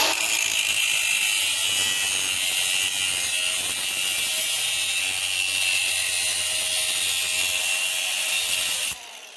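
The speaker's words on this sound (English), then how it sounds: "Worn out cutoff wheel we're going to put on here, and we're just going to make a cut in there." A Milwaukee cut-off tool with a worn wheel cutting into metal, producing a loud, continuous high-pitched whine and grinding that stops abruptly near the end.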